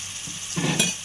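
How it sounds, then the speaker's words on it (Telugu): Spicy Andhra egg paste curry masala frying and being stirred in a pan, a close, steady sizzle with a louder scrape of stirring near the end. "ఇది బ్రౌన్ కలర్ వచ్చేంత వరకు వేగనిద్దాము"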